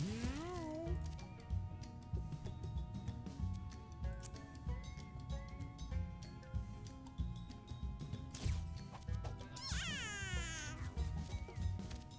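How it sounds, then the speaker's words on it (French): An archer cat from the video game Mewgenics lets out a meow at the start, followed by game effects and a bright rising electronic sweep later, over a steady musical backdrop at moderate level. "Il est horrible le miaulement de mon archer."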